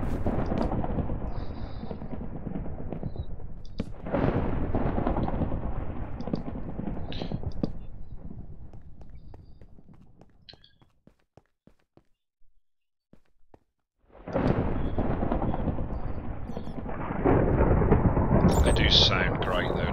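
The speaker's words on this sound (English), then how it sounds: "Thunderstorm is fairly impressive." Rumbling thunder and steady rain from a thunderstorm in Minecraft, a loud continuous wash that fades to near silence midway before surging back, with faint clicks and game effects scattered through.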